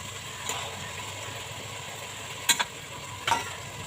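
Ginger garlic paste fries in a pan for chicken biryani, a soft, low hiss with a couple of sharper scraping strokes near the end, fairly quiet and with no voices.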